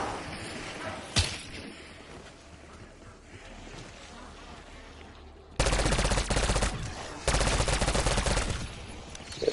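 Bursts of automatic gunfire from a weapon in a zombies-mode video game: a single sharp shot, then two long, loud rapid-fire volleys near the end over game background noise.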